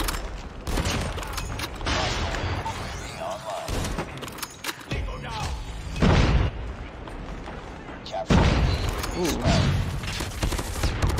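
Booming rocket-launcher blasts and bursts of gunfire in a multiplayer shooter match, several loud explosions scattered through dense battle noise with a voice talking over the action.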